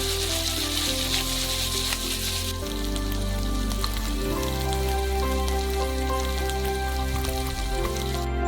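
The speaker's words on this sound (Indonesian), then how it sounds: "Goreng hanya beberapa menit." Chicken and vegetables fry in a pan with a steady, close sizzle that crackles like rain, and tonal background music plays throughout.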